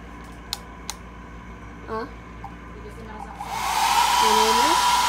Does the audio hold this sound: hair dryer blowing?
yes